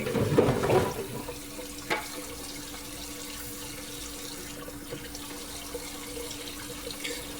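A kitchen faucet runs steadily while dishes are rinsed, with a splashier patch at the start and then an even, close stream of water and occasional light knocks.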